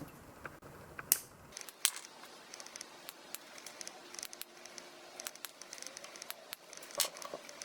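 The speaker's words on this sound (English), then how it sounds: "Now we're going to go ahead and trim off the leads here." Flush cutters trim electronic component leads on a Guy Man upgrade kit V2 board, producing a series of sharp, close snips spaced irregularly over quiet background, with small clicks and handling noises between cuts.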